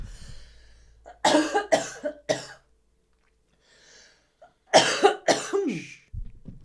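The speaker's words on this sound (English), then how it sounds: "I need to cough." Two bouts of coughing, each a run of several harsh, close coughs, separated by a quiet pause.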